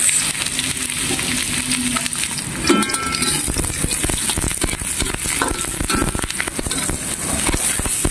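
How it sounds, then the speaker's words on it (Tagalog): Garlic and onion sizzle steadily in hot coconut cooking oil, a close, even frying hiss with a brief clink of a utensil stirring the pan partway through. "Lagay na natin ng bawang sibuyas."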